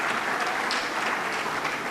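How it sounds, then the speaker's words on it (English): An audience at a live regional ministers' event giving a minister a round of applause; dense, steady clapping throughout at moderate level. "Please give him a bigger round of applause"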